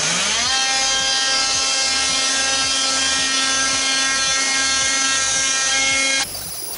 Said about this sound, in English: let's go ahead and just take our little sander and let's go along the edge right here and even that out